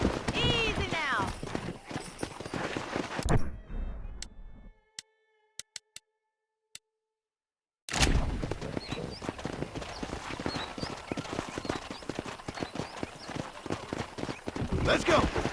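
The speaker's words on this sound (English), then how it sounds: "That ranch hand said there's a pack of wild horses nearby." Horses' hooves in the video game Red Dead Redemption 2 while rounding up wild horses near a ranch: rapid, rhythmic clip-clop of galloping hooves, close and loud, breaking off into near silence and then resuming, with voices talking over parts of it.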